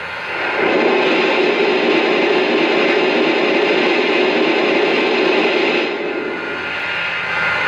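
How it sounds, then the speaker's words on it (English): A Lionel New York Central Empire State Express model train's steam blowdown sound effect: a steady, loud hiss of escaping steam runs for several seconds and then drops away, with a softer hiss lingering at the end. "Here is the steam blowdown sound effect."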